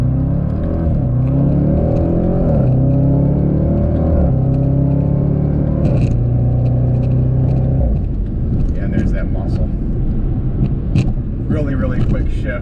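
2021 Range Rover Sport SVR in sport manual mode pulling out and accelerating hard, its engine droning up through several rising pitch sweeps with quick gear shifts, heard from inside the cabin, steady and loud throughout.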